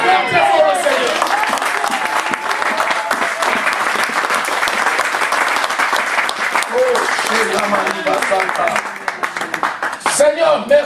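A church congregation bursts into sustained loud applause and cheering, dense clapping with shouts and voices mixed in across the whole stretch.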